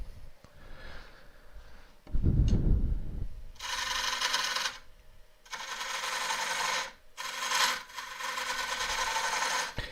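A 3/8 gouge cuts elm burr on a wood lathe, giving loud rasping bursts in several long strokes separated by short pauses, with a heavy low thump near the start.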